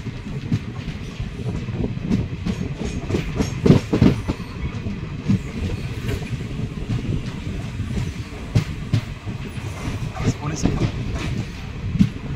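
An Indian Railways train pulls into Karwar station with a continuous loud rumble and rhythmic clickety-clack of wheels over rail joints, steady throughout with brief metallic knocks; a voice may be faintly present underneath.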